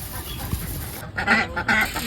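After a quiet rustling start, several ducks break into loud, close quacking in quick overlapping bursts.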